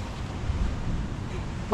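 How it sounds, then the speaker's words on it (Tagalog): Large ocean waves wash onto a beach in steady broadband surf with wind rumble, near and fairly loud, as sand eats away at a shoreline hut. "Grabe ang alon ah. Hindi. Ang laki ng alon."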